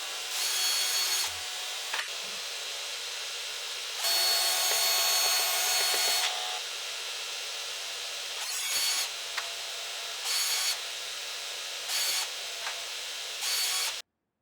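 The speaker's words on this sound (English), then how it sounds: "The ends need a quick cleanup, which I did with the drill and the belt grinder." Drill and belt grinder cleaning up the cut ends of metal clamp rods, with repeated bursts of abrasive grinding of varying length over a steady background machine hum and no talking.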